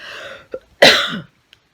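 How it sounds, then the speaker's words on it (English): A harsh, wet cough from a COVID-19 patient bursts out after some rough throaty breathing, close to the microphone, followed by a faint click. "the coughing, to be able to get the airways clear"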